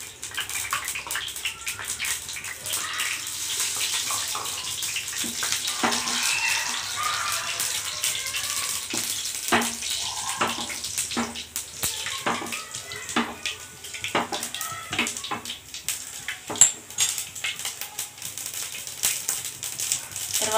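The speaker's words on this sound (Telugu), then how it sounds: "ఆయిల్ వేడైన తర్వాత దీంట్లో ఆవాలు జీలకర్ర తీసి పెట్టాం కదా అప్పుడు అవి వేసేసుకోవాలి" Mustard seeds and cumin sizzle in hot oil, a continuous watery hiss broken by small pops and crackles that go on for the whole stretch, heard up close with nobody talking.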